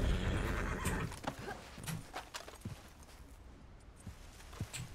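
A horse in the Red Dead Online video game whinnies loudly at the start, followed by scattered hoof clip-clops and soft thuds as the neigh fades, with no voices over it.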